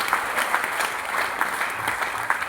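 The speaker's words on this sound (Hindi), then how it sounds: "एक बार जोरदार ताली बजाएगा" An audience at a business presentation gives loud, sustained applause, many hands clapping in a dense, even crackle with a few sharper claps standing out.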